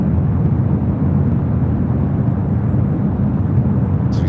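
Jet airliners landing at LAX roar loudly on reverse thrust, a steady, broad, rumbling blast that holds for several seconds with no voices over it.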